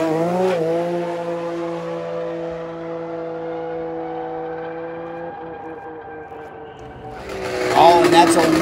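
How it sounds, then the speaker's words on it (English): A 700-plus-horsepower two-stroke turbo drag sled at a snowmobile and motorcycle racing event holds a sustained, buzzing high-pitched engine drone that wavers slightly, then a louder, rougher roar bursts in near the end. "Here comes the old Ghost two-stroke."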